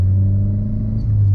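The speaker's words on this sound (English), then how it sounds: "Love the way this car sounds now." A Porsche 944 engine and exhaust drone in a deep, steady rumble from inside the car at a constant, loud idle or cruise, with no voices.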